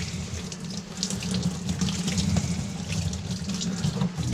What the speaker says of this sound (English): I'm gonna rinse it real good.